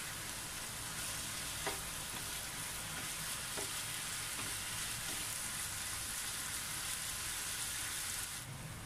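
Chicken breast frying in a pan for Filipino chicken igado, a steady dense sizzle that stays loud and even throughout, with a few faint utensil taps.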